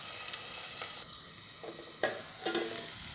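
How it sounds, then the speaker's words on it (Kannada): Potatoes fry in a pan for a capsicum dish, a low, steady sizzle with two or three clear scraping strokes of a spatula as they are stirred, short and close, without speech. "ಬಟಾಟಿ ಅದರಲ್ಲೇ ಸ್ವಲ್ಪ ಹೊತ್ತು ಫ್ರೈ ಆಗಲಿ"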